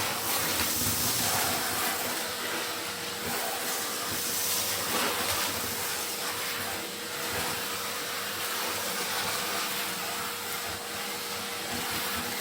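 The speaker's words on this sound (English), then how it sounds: "I'm just going to hoover this little bit up." A household hoover vacuums up soot and debris while sweeping a 1970s sandstone fireplace, giving a steady, loud, close hissing roar that runs unbroken throughout with no talking.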